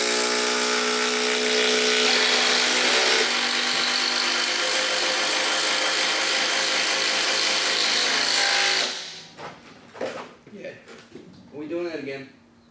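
Makita XDT15 and DeWalt DCD809 compact impact drivers run in a side-by-side tool test, giving a loud, continuous high whine that lasts about nine seconds before stopping abruptly, followed by people talking.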